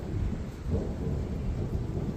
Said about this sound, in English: Hear that thunder there?